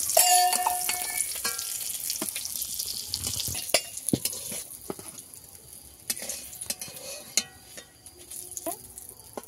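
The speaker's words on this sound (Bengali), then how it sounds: "ডিমগুলো ভালো করে উল্টে পাল্টে আমি ভেজে নিয়েছি" Eggs frying in hot oil for an egg curry, a continuous close sizzle broken by scattered clicks and scrapes as they are turned in the pan, with no talk.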